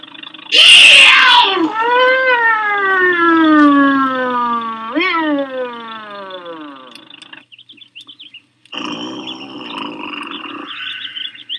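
A voice imitates a police siren with a loud, long wailing rise and fall, sliding up and down in pitch, then breaks off before another brief wail.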